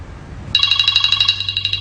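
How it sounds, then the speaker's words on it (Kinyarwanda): A telephone rings with a bright, trilling electronic tone that starts abruptly after a short quiet moment, then pulses rapidly and continues loud and close, with no talking. "Kiraro telefone ya sona"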